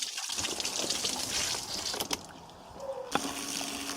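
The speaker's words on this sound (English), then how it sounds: "Turn on the backwash mode and start the pump" Steady, loud rush of water gushing through a pool sand-filter pump in backwash mode, a continuous churning flow with a brief dip and a sharp knock near the end.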